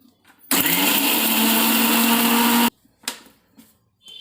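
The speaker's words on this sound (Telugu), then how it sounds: "ఇప్పుడు వీటిని అన్నిటిని మనం గ్రైండ్ చేసుకుందాం." A mixer grinder whirs loudly for about two seconds as it grinds ginger and garlic into a paste, with a steady high-pitched motor roar that starts and stops abruptly, followed by a few faint clicks and handling knocks.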